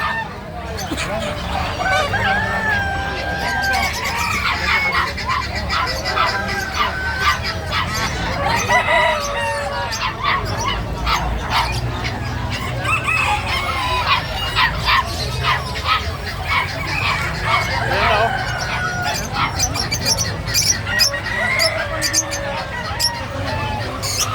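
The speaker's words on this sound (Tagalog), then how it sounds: "Naghahanap lang po kami ng malalaking manok." Chickens and roosters crow and cluck all around at a farm in the Philippines, many birds calling at once, with people talking beneath the noisy flock.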